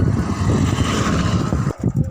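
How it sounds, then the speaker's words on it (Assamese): A car passes along a quiet, empty village road in Assam, a fairly loud, close rushing engine and tyre roar that briefly dips near the end. "আৰু গাড়ী এখন আহিছে"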